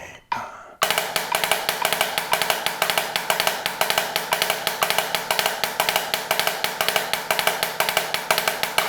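A drum plays the single-stroke-four rudiment in 12/8, a rapid, even stream of alternating strokes with regular accents, loud and close, after a brief count-in at the start.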